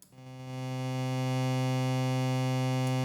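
An Arturia Matrix-12-V software synthesizer, multi-timbral with VCA2 turned up, swells into a loud, dense, buzzing sustained chord of twelve voices sounding at once, harsh and distorted, holding steady without any talk.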